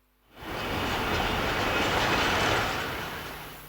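A train on the 231-kilometre Zaria-Funtua-Gusau-Kaura Namoda railway line in Nigeria rumbles past, starting after a short silence and holding a steady, loud roar of wheels and rolling stock with no voices.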